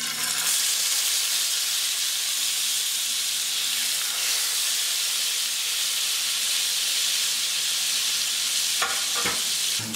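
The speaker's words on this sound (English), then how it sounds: "All right, time to put them in the frying pan." Spadefish fillets frying in butter and olive oil in a pan give a steady, loud sizzle and hiss that runs unbroken throughout, with a couple of brief crackling pops near the end.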